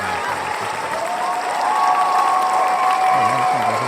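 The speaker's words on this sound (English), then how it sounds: "Keep clapping." An audience claps at the end of a live JavaScript podcast show, with steady dense applause and a few cheers that swell slightly midway and carry on throughout.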